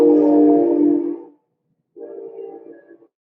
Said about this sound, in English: you're probably hearing the train going down 3rd Street